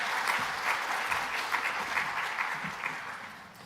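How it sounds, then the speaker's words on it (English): Conference audience at a national event in Scotland applauding a speaker's welcome, with a warm, dense burst of clapping that fades slightly toward the end. "Would you give her a round of applause?"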